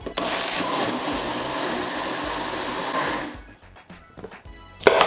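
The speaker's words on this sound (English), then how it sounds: "we're going to give this a quick blend just to smooth out a little bit of that peas that we added" Blender pureeing canned peas for Jamaican rice and peas: a steady whirring motor drone for about three seconds, then it cuts out, leaving a few clinks and a sharp knock near the end.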